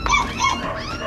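A puppy under attack from an Indian cobra gives sharp, close yelps and whimpering cries in quick succession over about a second.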